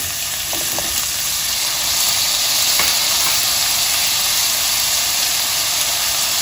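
Potatoes and bay leaves cook in a pot of lentil soup, giving a steady, loud frying sizzle and hiss throughout, with a few faint clinks from stirring.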